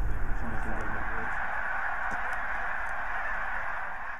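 Canada geese honking on their wintering grounds near the southern end of their range, repeated calls above a constant loud outdoor rumble, with a person talking partway through.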